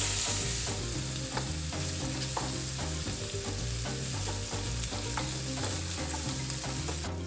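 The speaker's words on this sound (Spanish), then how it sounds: "Voy a agregar las costillas, voy a mover muy bien que se adhiera el azúcar a cada una de ellas." Pork ribs are stirred in caramelizing sugar in a pan, a steady close sizzle layered with repeated scraping and clattering of the ribs against the pan, while a low hum runs underneath.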